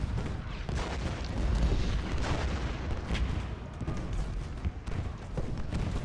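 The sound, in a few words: cannon artillery fire in video game Ultimate General: Gettysburg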